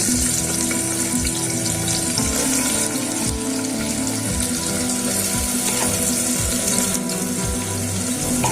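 Onions hit hot mustard oil for an egg curry and fry with a loud, steady, dense sizzle and crackle that holds for the whole stretch, with faint scraping underneath and no talking.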